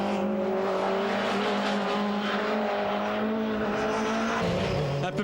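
Supertouring race cars at the Lédenon circuit in 1997 make a loud, continuous engine drone with shifting high revs as they pass close by.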